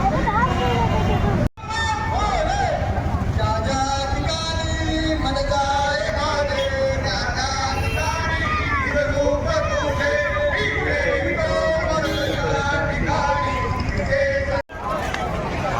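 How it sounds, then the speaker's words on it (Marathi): Dense crowd bustle at a Maharashtra village jatra in Kalher, with steady babble of many voices close around, someone talking over it throughout. "काय गर्दी आहे यार"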